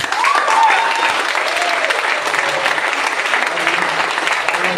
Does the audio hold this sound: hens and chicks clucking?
no